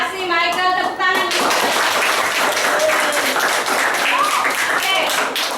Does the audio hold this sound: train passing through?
no